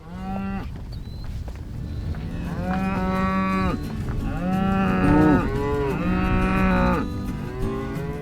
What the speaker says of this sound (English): rotationally grazes his herd of 50 limousine crossed cow-calf